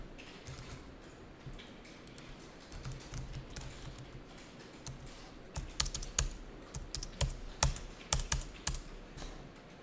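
Keys on a computer keyboard tap while accounting transaction data is entered, starting soft and sparse, then growing into louder, quicker clusters of clicks toward the end, close and alone.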